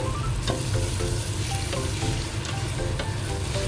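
Chicken pieces fry and get stirred in a pot with softened onions and garlic for a chicken, potato and water spinach sour soup: a constant close sizzle with scattered clinks of the utensil and faint background music.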